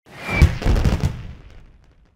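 Fireworks go off in the PC children's game La Famille Coup de Pouce during a national holiday celebration: one sharp burst of crackling bangs that thins out and fades over about two seconds.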